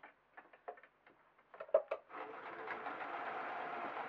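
A sewing machine stitches a fleece balaclava seam: a few quiet clicks and ticks of setup, then a steady close, even whirring run of stitching that continues to the end.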